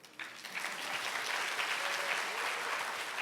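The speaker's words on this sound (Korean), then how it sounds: "박수 치셔도 돼요" Audience applause at a developer conference talk, a dense, even wash of clapping from a sizable crowd that starts abruptly and holds steady throughout.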